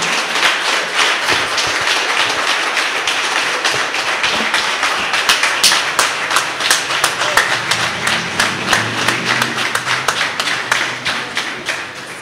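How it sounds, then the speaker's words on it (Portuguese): A church congregation claps during a worship service, with dense rhythmic hand claps in a steady beat that run the whole time, bright and close, with some thuds underneath. "Vamos aplaudir o Senhor, engrandecê-lo."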